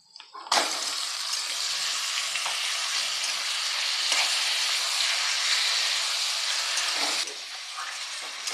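Beef pieces hit a pan of fried chopped onion, bay leaf and whole chillies, bursting into a loud, steady sizzle that holds for several seconds before easing slightly near the end.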